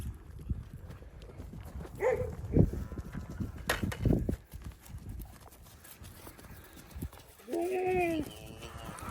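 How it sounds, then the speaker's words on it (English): Goats bleat among hoof clatter and shuffling, with a loud, wavering bleat close by near the end. "Look out, goats."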